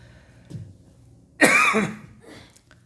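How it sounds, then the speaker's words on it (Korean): A brief, harsh cough bursts out loudly after a faint throaty sound, followed by a softer trailing rasp. "저는 감기 몸살은 안 들었는데 기침이 이렇게 나요."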